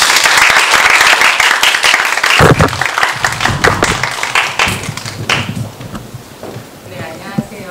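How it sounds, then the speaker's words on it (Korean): An audience at a university artist talk applauds for artist Kim Tae-soo, a loud burst of many hands clapping that thins and fades, with a voice speaking over the end. "김태수 작가님 큰 박수 부탁드립니다."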